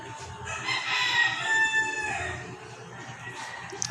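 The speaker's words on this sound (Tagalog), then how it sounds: "Nakita mo mga manok, diba?" Roosters crow in the distance over a background of clucking chickens, with several calls overlapping in a busy farmyard.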